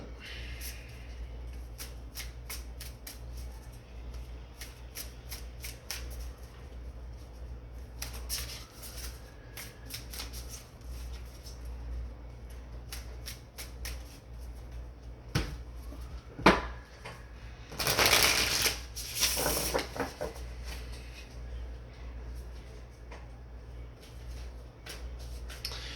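A deck of angel cards is shuffled in short papery riffles around the middle, preceded by quiet handling and followed by softer card sounds over a steady low background hum.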